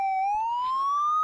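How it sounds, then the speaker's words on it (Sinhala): A police siren wails alone in one continuous, steadily rising tone, loud and close, with no other sound around it. "අයියෝ බොස් පොලිස් සයිරන් එකේ සද්ද නේද?"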